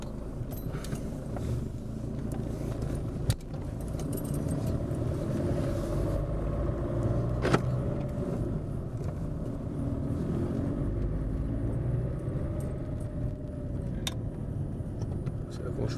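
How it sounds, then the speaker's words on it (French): Steady low road rumble and engine drone from a 2006 Mercedes C200 W203 driving on the road after a rear brake pad replacement, heard from inside the cabin with someone talking over it. "on va faire un petit tour sur route"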